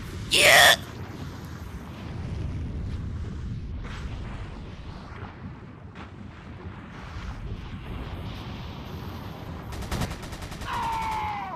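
Gunfire in the Resident Evil 4 VR video game: a sharp loud burst at the start, then a rumbling, windy game background with scattered thuds and a second cluster of crackling shots near the end.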